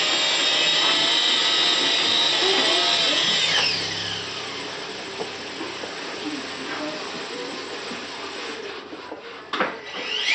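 An MH300 RC helicopter sits on the ground with its tail rotor spinning, giving a steady loud high-pitched whine and buzz that drops slightly in level partway through, with rattling and a few knocks near the end.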